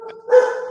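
A dog in a garage gives a single short, loud bark, close and echoing briefly in the enclosed space.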